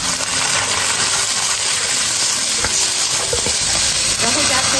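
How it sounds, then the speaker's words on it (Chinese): Pickled vegetables are stir-fried with pan-fried fish pieces in rapeseed oil and lard for suancai fish. A loud, continuous close sizzle runs throughout, broken by occasional scraping and clinking of the spatula against the wok. "煎好以后下小菜，"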